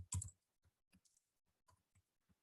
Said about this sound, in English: So I can actually click on the place mark and add it here